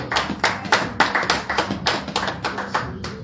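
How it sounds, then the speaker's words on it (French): A church congregation clapping in a steady, rhythmic beat, loud and close, roughly three claps per second with no talk. "Acclamons pour l'Éternel"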